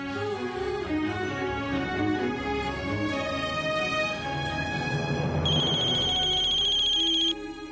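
A telephone rings in a Marathi TV serial scene, with repeating electronic ringtone tones over a musical background. A brighter high ringing pattern joins near the end before the sound cuts off.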